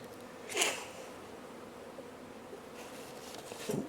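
Honey bees buzz steadily at a hive entrance at Mantel Farm, a low continuous drone with a brief louder burst as one flies close, then settling back to a faint hum.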